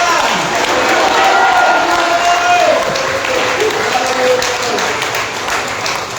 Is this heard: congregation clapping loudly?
yes